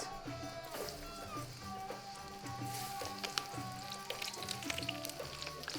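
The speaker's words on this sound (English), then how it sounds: "We want to fry it now." Okra sizzling as it fries in a pan for Lebanese okra and rice, a steady close crackle and spatter with pops scattered throughout.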